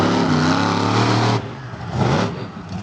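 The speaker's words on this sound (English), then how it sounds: "It's always a little bit worrying when he accelerates towards you in a monster truck" Monster truck at a monster truck show accelerating toward the listener, a loud, dense engine roar that holds strong and then dips and surges again, close and unbroken, with no talking.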